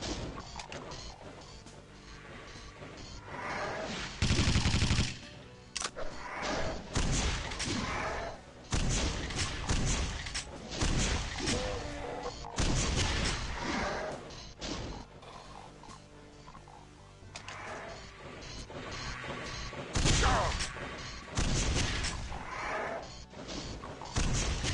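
Loud, heavy shots and crashes fire in irregular bursts in the FreeDoom video game, with dense in-game action noise and little talk.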